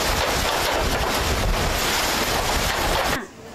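Loud, steady roar of strong wind buffeting the microphone with a rushing wash of rain during a storm at a school used as an evacuation shelter, metal roof sheets nearly torn off, continuous until it cuts off abruptly near the end.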